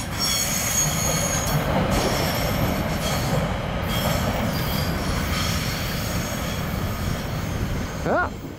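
A westbound CN train carrying Iowa Hawkeye passenger cars rolls past on the rails near Cedar Falls, Iowa, in a loud, steady rumble of wheels and cars, with a brief squeal near the end.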